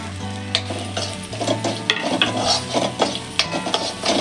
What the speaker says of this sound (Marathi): आपण मसाला याच्यामध्ये चांगला फ्राय करून घेऊया.